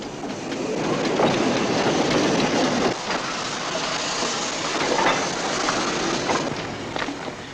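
A steam train at a vintage village in Forbes rumbles steadily along the rails with a continuous clatter of wheels, heard close and loud throughout.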